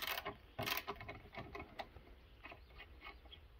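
A 14 mm wrench works loose the fork bolts on a Trailmaster MB200-2 motorcycle, with faint scattered metallic clicks and scrapes close by at low level, no voices.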